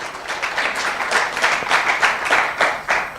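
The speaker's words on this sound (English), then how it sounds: "Please, can we applaud Alisa?" Conference attendees at a stakeholder session clap for a speaker, a moderately loud patter of hands with uneven bursts and a clear rhythm, no talking over it.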